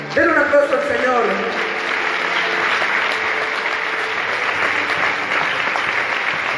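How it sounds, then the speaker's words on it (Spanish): A church congregation applauds during a Spanish-language evangelical service, steady crowd clapping filling the room throughout, with a voice speaking over it. "Denle un aplauso al Señor."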